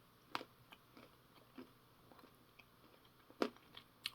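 Crunchy MRE nuts and pretzels are chewed close up in a string of sharp, irregular crunches and bites over a quiet background.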